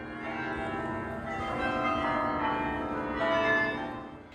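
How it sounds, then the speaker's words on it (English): Bells in a tall medieval bell tower in Bruges ring out together, a loud sustained wash of overlapping tolls and hum that swells and fades with no voices. "its bells rang out the hours."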